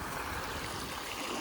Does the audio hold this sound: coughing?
no